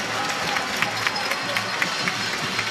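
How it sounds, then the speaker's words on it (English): Crowd at a Ghana vs Egypt women's football qualifier applauding, a steady spread of clapping from distant stands with faint scattered claps standing out, under a continuous crowd murmur. "And she get the applaud from the fans"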